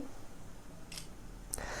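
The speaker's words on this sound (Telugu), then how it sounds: "నేను ఇక్కడ ఒక క్లిక్ అయితే మీకు ఒక ఫోటో అయితే క్లిక్ చేస్తాను" Two soft, sharp clicks of a OnePlus 8 phone camera shutter sound about half a second apart in a quiet room.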